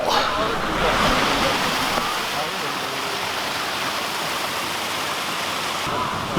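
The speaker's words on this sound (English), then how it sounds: "you can probably hear it already. It's a little bit of a waterfall." Steady rushing splash of a small garden waterfall, close and continuous, a broad even wash of sound with no pauses.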